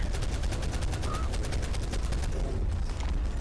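Rapid, sustained gunfire from a player standing and shooting in the mobile game ARK Mobile: dense automatic bursts crackle without pause, loud and close throughout.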